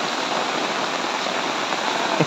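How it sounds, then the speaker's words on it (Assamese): Floodwater spills over pond banks in heavy rain, making a steady, loud, unbroken rush of falling and flowing water. "পাৰৰ ওপৰেদি পানী গৈছে মাছ সকলো ওলালে একো নাই আৰু ওপৰত পানী বাগৰিছে"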